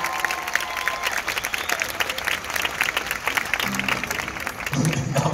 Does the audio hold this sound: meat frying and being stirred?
no